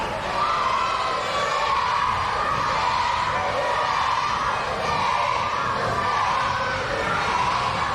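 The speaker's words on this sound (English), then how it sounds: "The crowd taunting the Blackhart" Wrestling audience at a live independent show jeering and taunting a heel, a loud continuous wall of shouting and yelling voices with steady intensity throughout.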